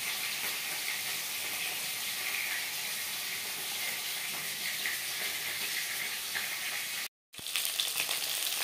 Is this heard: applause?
no